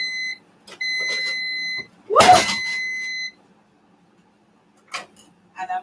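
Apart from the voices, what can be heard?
air fryer beeping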